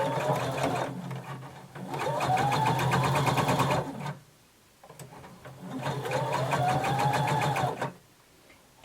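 Sewing machine stitching a bodice seam with backstitching, two long bursts of steady close mechanical whirring separated by a short pause, running alone with no talk.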